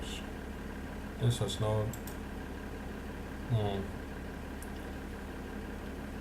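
A 250 horsepower tractor engine idling in Farming Simulator 2013, a low steady rumble with a constant hum running underneath, while someone speaks briefly over it twice.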